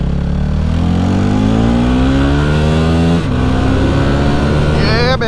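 A Yamaha WR250R dual sport motorcycle, street legal, revving up through gears close by, the engine note climbing steadily, a brief dip, then rising sharply again near the end.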